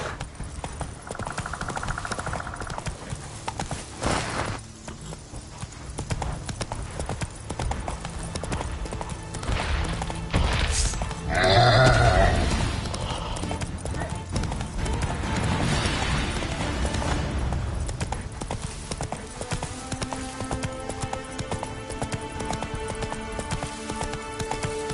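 Roach, Geralt's horse in The Witcher 3, gallops with a fast, steady clip-clop of hooves. Rain patters throughout, and the hoofbeats swell briefly louder midway.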